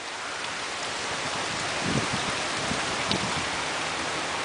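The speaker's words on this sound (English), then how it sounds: "So here's Storm in the rain." Steady outdoor rain falls in a residential neighborhood, a dense even hiss of drops throughout with a couple of slightly louder splashes near the middle, no voices.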